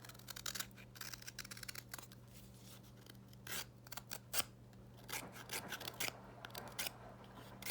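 A dull knife cuts and scrapes through material in short rasping strokes that come in faint, irregular bursts close to the listener, with no speech.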